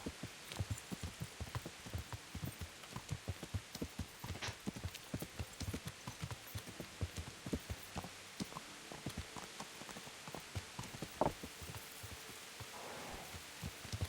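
Horse hooves clip-clop in Kingdom Come: Deliverance, a brisk, steady run of sharp close hoofbeats lasting over ten seconds, with faint rain-like patter in the background and no talk.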